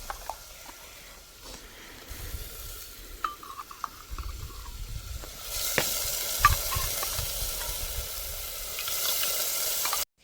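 Yogurt hitting a hot spiced tempering of turmeric and chili in a pan gives a soft sizzle that swells louder partway through, with scattered stirring clicks and scrapes.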